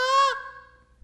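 A goose call is blown to imitate an excited young goose coming in, giving one short, sharp, high honk that ends abruptly, close and alone.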